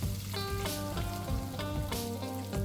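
Onion frying in hot mustard oil in a kadhai, giving a steady, loud sizzle with crackling bursts throughout and no talk.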